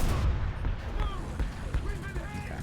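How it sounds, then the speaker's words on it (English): Gunfire in a first-person shooter video game: a rapid scatter of close shots and impacts, with a voice talking alongside. "I'm firing all my shots in the wrong place right now"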